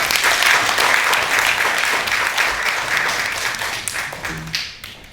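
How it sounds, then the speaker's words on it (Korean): A memorial service audience applauds a soprano singer and her piano accompanist with loud, full clapping that holds steady, then fades away toward the end. "노래해 주신 소프라노 정수희님과 피아노 반주해 주신 이미아님께 힘찬 박수"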